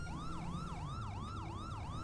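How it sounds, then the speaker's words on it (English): Main siren of a police car from an emergency lighting mod in Grand Theft Auto 5: a steady, rapid wail rising and falling about twice a second, loud and clear with no talking. "this is the first function, which is the main siren"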